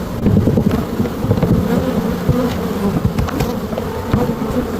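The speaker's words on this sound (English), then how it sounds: "There's a lot of honeybees." A thick, steady drone of many honey bees swarming close around a hive during a transfer to a horizontal hive in a backyard, continuous and loud with no talking.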